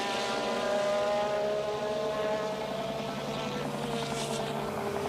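Globo TV's helicopter hovers over the 1986 Brazilian Grand Prix Formula 1 race, a steady droning rotor and engine hum with layered tonal whine, fairly loud and continuous with no voices.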